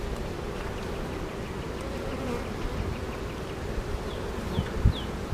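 Honeybees at a hive that has just swarmed give off a steady, close, dense buzz that holds throughout, with a few brief louder passes near the end.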